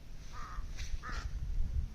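Crows caw in the quiet Solang Valley among snowy mountain slopes, two short harsh calls in quick succession, moderately distant over a steady low rumble of wind and open air.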